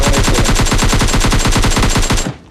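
Rapid sustained automatic gunfire in the mobile battle-royale game PUBG Mobile Lite, a dense, loud, evenly spaced burst of shots that runs for about two seconds before cutting off abruptly, with no talk.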